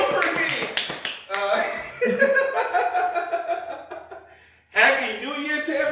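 Audience at a stand-up comedy show clapping and chuckling, a lively burst of applause with scattered laughter that dips and then swells again near the end.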